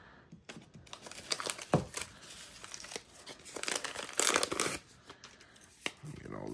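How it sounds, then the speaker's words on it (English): Tape and paper crinkle and tear as they are stripped off a firework salute shell, in bursts of close rustling and ripping with a longer tearing stretch near the end. "Get all this tape and paper off"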